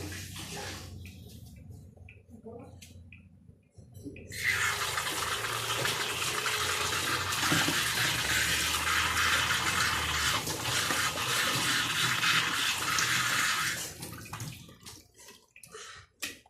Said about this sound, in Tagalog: pag binuksan mo yung gripo, tapat mo siya.